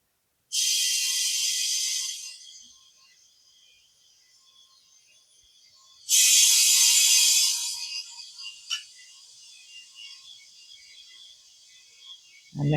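An air compressor hose blows air into a duck-shaped mold in two loud, hissing bursts of about two and six seconds, each fading into a faint lingering hiss, with a brief click between them.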